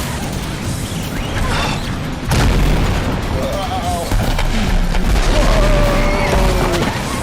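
Loud, rumbling explosions from Final Fantasy 7 Remake with heavy low-end booms, continuous and dense, while a person exclaims briefly over the noise.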